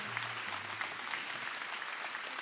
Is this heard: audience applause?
yes